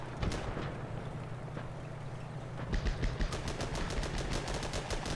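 Gunfire from automatic crew weapons in the tank game Armored Battle Crew, rapid sharp bursts of shots layered over a low engine rumble, growing denser in the second half, with no talking.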